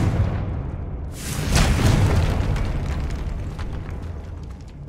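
A Confringo fire spell erupts in the Hogwarts Legacy catacombs, a single booming blast about a second in that swells and then rolls into a long, decaying rumble with crackling debris.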